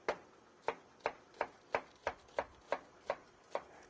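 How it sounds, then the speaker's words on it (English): A knife slicing through an onion on a board, about a dozen crisp, evenly spaced cuts at a slow, steady rhythm, close and clear with no other sound. "Gonna just slice this onion."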